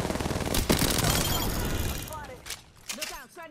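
Rapid Havoc rifle fire in Apex Legends rattles out in a dense, loud burst for about two seconds, then breaks into a few scattered shots and impacts as a voice speaks briefly.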